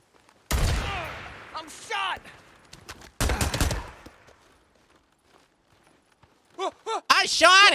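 Bursts of gunfire from the video game Days Gone, two loud close volleys with pauses between, then shorter shots near the end, under intermittent talking voices.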